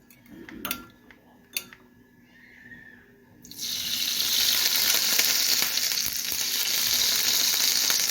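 Homemade leavened dough bread starts cooking in a hot pan, a loud steady sizzle bursting in after a few quiet seconds of faint clinks and continuing evenly, close and unbroken.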